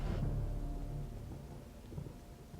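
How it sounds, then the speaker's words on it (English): Faint distant thunder rumbles low and soft in the video game Eternal Darkness, heard from an underground area, a brief muffled roll that slowly fades. "The sounds of distant thunder."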